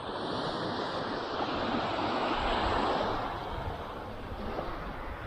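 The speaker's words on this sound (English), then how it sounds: "Nice, calm waters. Big, long, sandy beach." Gentle waves wash continuously onto a long, calm sandy beach in Greece, a steady broad surf hiss with some wind buffeting and no voices.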